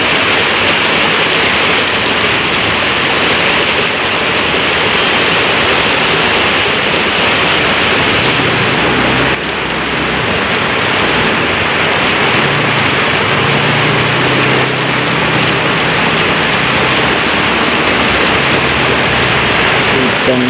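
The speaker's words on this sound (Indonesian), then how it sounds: "Ini hujan deras." Heavy morning rain pours down steadily in Jakarta around seven o'clock, a dense, continuous broadband hiss that stays loud and unbroken for the whole stretch, with a faint low rumble beneath.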